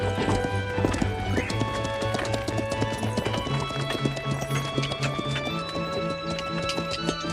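Steady clip-clopping of horse hooves continues throughout, with a neigh rising briefly over the rhythmic trotting, fairly close and loud.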